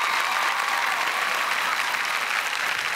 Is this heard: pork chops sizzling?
no